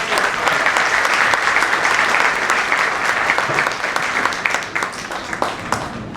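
An audience at a sales training seminar breaks into sustained, loud applause, many hands clapping steadily for several seconds before it begins to thin slightly toward the end.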